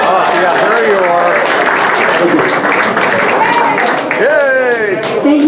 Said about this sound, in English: We have a round of applause for them, like a real one